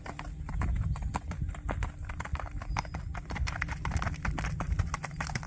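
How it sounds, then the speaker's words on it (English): An eight-year-old bay gelding cantering, a close, rapid and steady rhythm of hoofbeats drumming on the ground for several seconds amid faint background noise. "Here comes Strider showing off his canter, which he has a very, very nice one"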